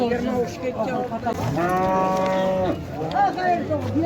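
An ox lets out one long, low moo in the middle, with people talking before and after amid outdoor livestock market noise.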